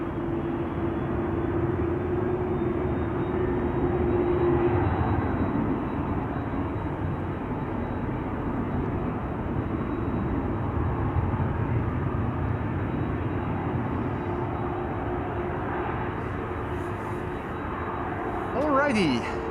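KLM Boeing 777 'Orange Pride' taking off at Amsterdam Schiphol Airport, a steady broadband jet roar rising toward the end, with a voice talking over it.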